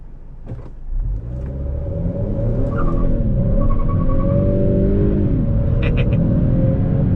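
A 2022 Honda Accord Sport 2.0T with a 10-speed transmission accelerates uphill in sport mode, its engine rising in pitch then steadying into a loud sustained hum with tire and road rumble, heard from inside the cabin.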